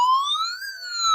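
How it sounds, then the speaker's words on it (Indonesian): A toy ambulance siren wails with a smooth electronic tone that rises and then falls in one sweep. It sounds close and clear, with nothing else heard. "Lihat, ada lampunya teman-teman dan berbunyi sirene."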